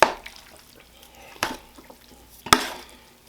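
Beef and broccoli being mixed with sauce, heard as three sharp utensil clanks and wet scrapes spaced about a second apart, with quiet gaps between and no talking.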